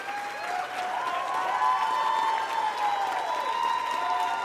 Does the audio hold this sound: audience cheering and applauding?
yes